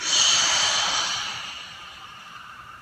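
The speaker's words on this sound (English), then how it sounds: "And exhaling." Deep exhale in a guided Buddhist meditation breathing exercise: a single long, airy breath out, loud at first and tapering off over a couple of seconds, heard alone without talk.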